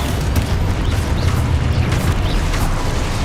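A Confringo fire spell blasts in Hogwarts Legacy, a loud rumbling game explosion that keeps booming heavily for several seconds without pause.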